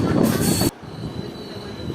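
The 13333 Dumka–Patna Express on Indian Railways runs on the rails near Barapalasi. A loud, close rushing roar with wheel noise cuts off abruptly partway through, leaving a quieter steady rumble of the moving train.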